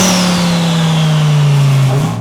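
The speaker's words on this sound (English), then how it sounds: "other than the exhaust system, which sounds absolutely crazy anyway, that turbo sound has to be one of the best sounding" An Audi R8 Spyder with a twin turbo kit revs hard up close, a loud sustained engine roar with rising turbo whine and exhaust note, no voices over it.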